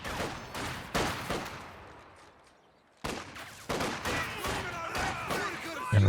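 Rapid rifle and machine-gun bursts crack from a building's windows in the World War II strategy game Company of Heroes 2, loud volleys with a short lull before the firing resumes.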